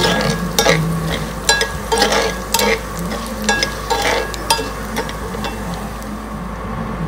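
Dried red chillies sizzle and crackle in hot tempering oil in a pan, with the heat switched off. A steady frying hiss carries scattered sharp pops and stirring clicks, close up, with no voices.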